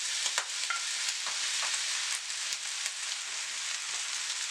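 Beef stirred back into frying fried rice, a dense steady sizzle with a few sharp spatula scrapes and clicks, close and loud, no voices.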